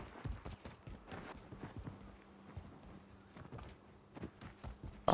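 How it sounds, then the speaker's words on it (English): Footsteps of an enemy player in the video game Call of Duty Warzone, a rapid series of soft thumps and scuffs that keep going through the whole stretch, moderately close, with a steady low hum beneath and no talk. "I hear every step you taking"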